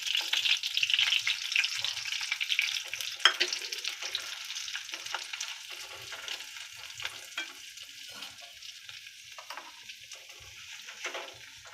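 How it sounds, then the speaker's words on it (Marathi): Semolina roasts in ghee for sheera, giving a bright, airy sizzle with gentle scraping stirs that gradually fades and softens over about twelve seconds. "रवा चांगला भाजून घ्यायचा लाल होईपर्यंत"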